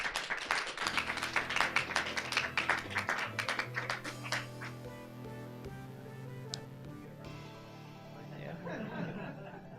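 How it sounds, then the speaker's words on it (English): A crowd claps in a dense burst of applause at a live shoot 'em up gaming event, fading after a few seconds, followed by light laughter and a voice over quiet background music. "let's give this man another round of applause"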